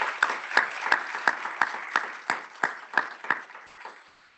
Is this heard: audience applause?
yes